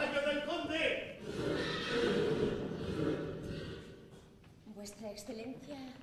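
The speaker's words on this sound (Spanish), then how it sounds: "¡El caballo del conde!" A horse whinnies in a staged theatre scene, a drawn-out neigh near the start followed by snorting and shorter calls later, under and between spoken dialogue.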